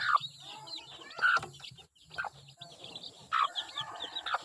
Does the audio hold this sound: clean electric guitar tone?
no